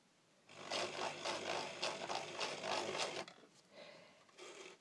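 A sewing machine doing free machine embroidery on a doily runs in rapid bursts of close stitching, pausing briefly and starting again, then slowing and fading into a quieter final run.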